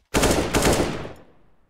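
A rapid burst of automatic rifle fire in the game CS:GO, one loud dense spray of shots lasting about a second before quickly trailing off.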